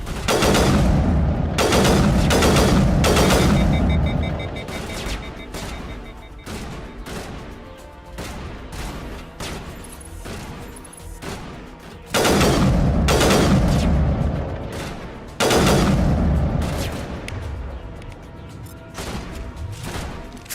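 Shotgun fire in the video game Scarlet Nexus, loud rapid bursts of blasts and booms stacking into a heavy barrage, with brief lulls between volleys.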